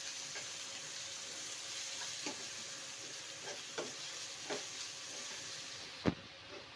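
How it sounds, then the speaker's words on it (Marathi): Soft, continuous sizzle of spice masala sautéing in oil for spinach bhaji, with chili powder, turmeric and Maggi masala, broken by light stirring taps and one sharper knock near the end, close and quiet, no voices. "आम्ही चांगलं परतून घेते मसाला।"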